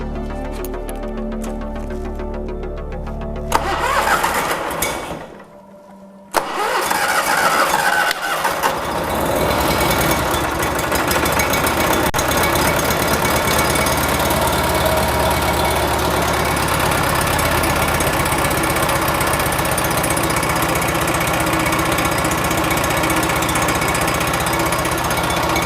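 Cub Cadet 1872 tractor engine running after exhaust and head gasket repair: a loud running engine cuts out briefly, then restarts with a sharp catch and settles into a steady, close, even idle.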